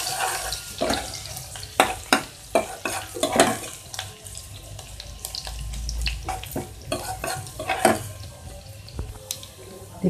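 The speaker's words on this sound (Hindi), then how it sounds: "लाइट ब्राउन होने तक फ्राई करेंगे।" Chopped garlic sizzles steadily in ghee in a pan while a utensil stirs and scrapes with irregular clicks, fairly close and clear, no talking.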